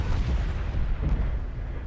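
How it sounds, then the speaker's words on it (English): A single-shot cannon fires and blasts through a fort in the video game Forts, a heavy rumbling boom with dense low-end explosion noise filling the whole short span. "the single shot cannon comes online and causes devastation"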